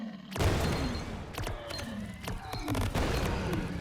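Small forward-facing guns fire in the video game Greedland, sharp irregular bursts of shots and booms over a busy mechanical background, with a few bursts close together.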